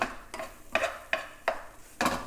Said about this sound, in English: We're just lightly just heating up the miso paste and the GoChuJang with our vegetables and our bacon.